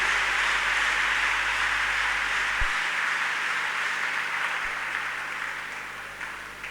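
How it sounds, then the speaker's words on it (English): Church congregation clapping in praise, a broad steady patter of many hands that gradually fades toward the end. "Clap unto God and appreciate."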